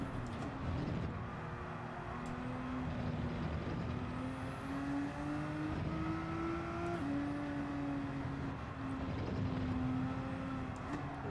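A race car engine in Gran Turismo 7 drones steadily throughout, its pitch shifting up and down with gear changes, loud and continuous with no talking.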